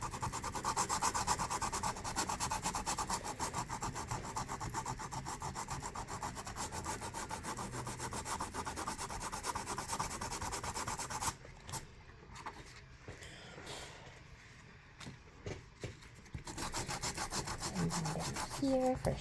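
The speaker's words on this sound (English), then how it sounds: "really get in there and scuff it up a bit" Rough scrubbing and scuffing across a surface to build a grunge bronze patina, a close steady rasping rub that turns sparse and intermittent midway, then resumes.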